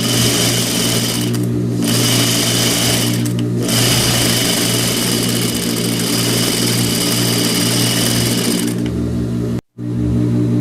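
A sewing machine runs steadily, stitching close to the edge of a blouse, with a loud continuous motor whir and rapid needle chatter broken by a few short pauses and one abrupt stop near the end.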